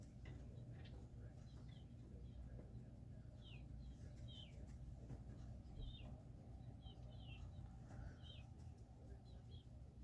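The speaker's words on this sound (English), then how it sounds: "Sounds like there's birds right up in the eaves outside our window here." Small birds call and chirp from the eaves just outside a window, repeated short twittering notes at moderate distance over a steady background hum.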